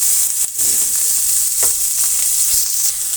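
Chopped onions frying in hot oil with mustard seeds, giving a steady close hiss and sizzle with a few soft stirring knocks. No talking.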